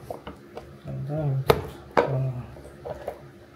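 Vegetable chopper gadget pressed down on a potato, giving two sharp, loud chopping clacks about half a second apart amid quieter kitchen handling noise and faint hums.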